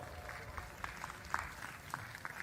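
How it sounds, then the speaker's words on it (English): A small group claps scattered and fairly softly for a couple of seconds at a university graduation ceremony, with sharp individual hand claps over quiet room noise. "Let's give her a round of applause"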